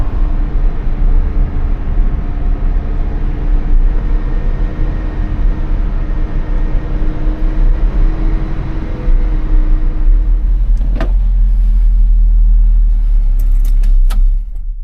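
An 1980s pickup truck drives along with a loud, continuous low engine and road rumble from inside the cab, joined near the end by a few light rattles and clinks.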